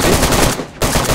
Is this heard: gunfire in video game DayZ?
yes